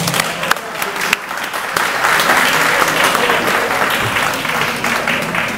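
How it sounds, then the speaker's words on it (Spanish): A lecture audience at an international conference breaks into applause, with a few scattered claps swelling into dense, sustained clapping that carries on to the end. "vamos a empezar ya con un aplauso, doctor García Creus."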